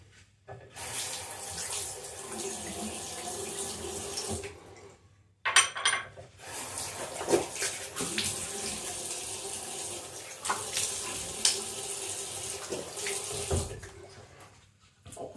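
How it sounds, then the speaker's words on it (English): Warm water runs from a tap to rinse an Edwin Jagger DE89 double-edge safety razor at a sink. The flow splashes in near, bursts broken by short pauses, and the stream sounds different as the razor passes through it. "I did in warm water rinse like always."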